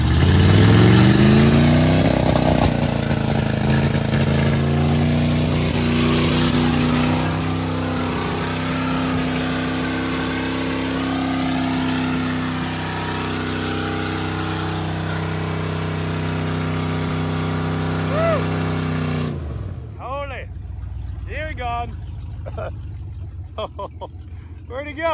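A Dodge car's engine revs loudly and steadily during a burnout, a sustained roar that cuts off sharply near the end, leaving quieter sound; people talk over the engine noise.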